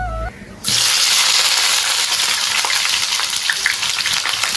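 Potatoes, onion and garlic hit a hot pan and burst into a loud, continuous sizzle after a brief quiet moment, crackling on steadily close up.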